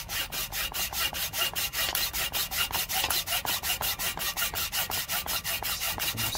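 Saw blade cutting wood for a lockpick handle: fast, even back-and-forth rasping strokes, close and continuous, each stroke a bright scratchy burst in a regular rhythm.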